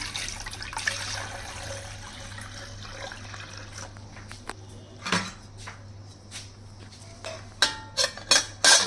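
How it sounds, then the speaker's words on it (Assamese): Water splashes and trickles into a cake-steaming pot on a gas stove, followed by clinks and knocks of metal cookware, sharper clatters clustering near the end. Close, with no talk. "ইয়াতে মই অলপ পানী দি দিছোঁ এতিয়া"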